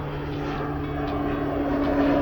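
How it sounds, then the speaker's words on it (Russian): Low-flying airplanes over the small Polish town of Nowy Targ, a loud, steady propeller drone with a faint tonal hum and no break. "привыкнуть к постоянному шуму самолетов и принять эту особенность Нового Тарга, потому что летают они очень низко, очень громко"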